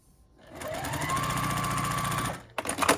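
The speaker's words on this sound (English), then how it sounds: "when I'm piecing smaller pieces, I usually sew with smaller stitches" A sewing machine stitches small quilted Christmas stocking ornament pieces with short stitches, running in a steady close whir for about two seconds before stopping, followed by a few brief clicks and rattles.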